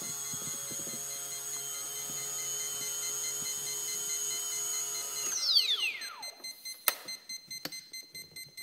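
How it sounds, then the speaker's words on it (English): Turnigy 12A ESC on a quadcopter with a KKmulticopter board emits a high electronic tone that sweeps downward, followed by a steady series of short, evenly spaced beeps repeating close by with no talk. "The problem is, essentially motor 4, and the ESC, as I mentioned, beeps constantly."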